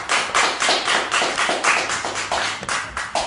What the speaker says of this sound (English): Let's clap it up for our guests.